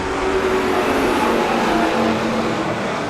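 Race cars racing at Lee USA Speedway, a dense wash of several engines roaring together at full throttle, steady and loud with slight pitch shifts as they pass.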